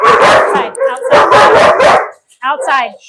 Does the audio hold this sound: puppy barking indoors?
yes